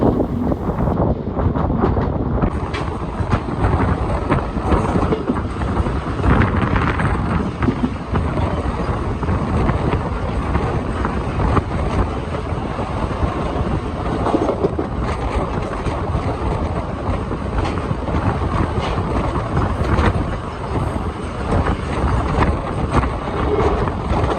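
A Krishna Express sleeper-class train runs steadily, with a continuous close rumble and rattle of wheels and coach that holds loud and even throughout, with no talk over it.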